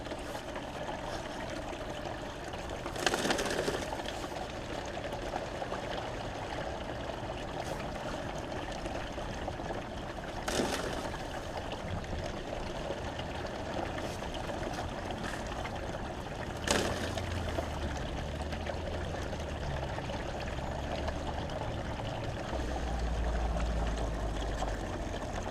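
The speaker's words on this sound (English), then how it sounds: "Mad mining recirculator, modified with a different sluice on it." A gold prospecting recirculator, modified with a different sluice, pumps water through the sluice in the desert, giving a steady, faint rushing trickle throughout, with a few brief knocks and no talk.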